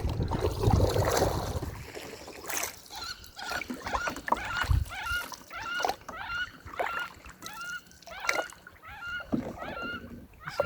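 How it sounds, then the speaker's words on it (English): Ducks quack and chatter in a rapid series of nasal calls outdoors on a river, with faint water and movement sounds around them. "Cool ducks. Interesting noise they make."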